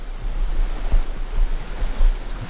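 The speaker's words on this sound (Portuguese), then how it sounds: "Essa água corrente aqui oxigena bastante a água e também mantém a água mais gelada." Running water of a mountain stream in a fishing spot rushes steadily and close by, a continuous loud broadband wash with no voices.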